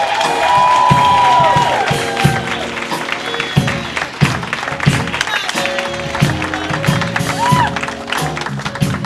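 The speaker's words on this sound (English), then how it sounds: "Give a warm round of applause for Neil Oliver Elliott." A live show audience applauds for a birthday guest, with scattered claps, whoops and cheers mixing with crowd noise and brief tonal sounds through the clip, fairly close and loud.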